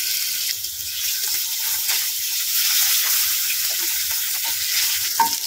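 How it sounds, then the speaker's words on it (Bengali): Fish fat and pieces of rohu fish head frying in hot oil, a loud continuous sizzle close up with occasional stirring and scraping, no voices. "মাছের সাথে একটু মাছের তেল দিয়েছিল, ওটাকেও ভেজে নিই, আর মাছের মাথার একটু টুকরো"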